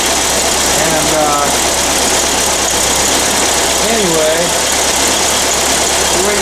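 VW car engine idling after a cold start following eight years unused, a loud continuous rumbling drone heard up close, with voices talking over it in places.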